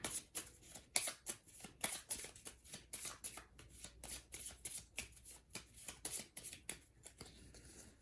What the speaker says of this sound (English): Shuffle up his discard.